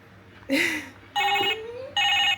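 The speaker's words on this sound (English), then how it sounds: "And that is my phone." A telephone ringing indoors at home, two loud electronic ring bursts with a brief gap between them, close by with no speech over it.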